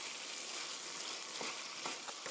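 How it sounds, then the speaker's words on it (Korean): Chicken and sliced tomatoes stir-frying in a pan, a close, continuous sizzle with a few short scraping strokes of a utensil toward the end. "썰어 놓은 토마토 넣어주세요. 이렇게 해서 3미닛, 3분 정도 볶아주세요."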